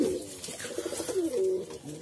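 Pigeons coo close by in a soft, throaty, warbling run that lasts about two seconds, with no other sounds over it.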